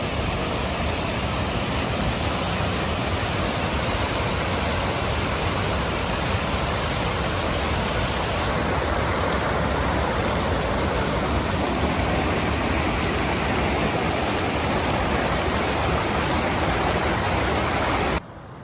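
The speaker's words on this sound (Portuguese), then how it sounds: "Agora aqui na comporta está aí a vazante mesmo." Water rushes steadily through the floodgate spillway of a municipal dam at Lagoa Formosa, Minas Gerais, a loud continuous roaring wash with no break for nearly the whole stretch.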